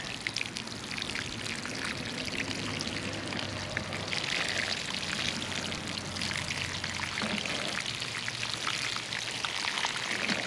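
Water pours steadily onto soil and leaves of freshly planted Swiss chard in a pot, a continuous close splashing and trickling that keeps going without a break.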